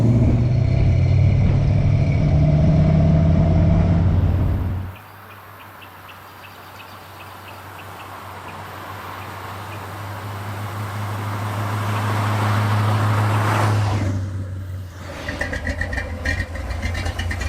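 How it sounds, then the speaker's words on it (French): A 1966 Chevrolet Corvette C2 with a 327 V8 idles with a deep, steady rumble, then cuts out briefly before the engine sound builds again and settles into a throbbing idle, with some faint ticking and knocks near the end. "Écoutez un peu la mélodie du 327."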